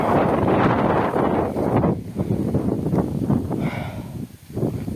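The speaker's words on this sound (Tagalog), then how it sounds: "Malakas pala ang hangin dito." Strong wind on a hilltop in San Vicente buffets the microphone in heavy, uneven gusts, roaring and rumbling throughout with no voices.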